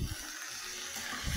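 Hot water being poured into a pan of Bengali fish curry with fish already added, a steady continuous gushing pour under a broad watery hiss, close and fairly quiet with no talking.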